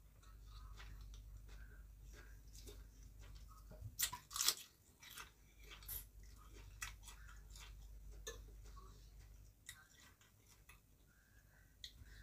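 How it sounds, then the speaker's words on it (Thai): Crispy fried shrimp being chewed close up, with a run of sharp crunches and bites, a louder burst in the middle, over quiet background and no speech. "แตกจังกรอบกรอบกุ้งจ้ะ"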